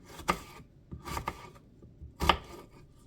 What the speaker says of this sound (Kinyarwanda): Nkurikijeho gukata igitunguru rero nacyo ngiye gukatamo dutoya.